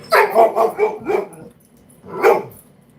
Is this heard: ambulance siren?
no